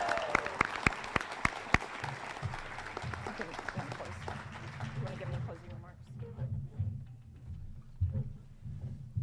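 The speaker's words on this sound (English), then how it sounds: "Let's give one final round of applause for all of our graduates and their amazing work" Applause for graduates at a university hooding ceremony, a burst of crowd clapping over the first couple of seconds that quickly fades while someone speaks at a microphone.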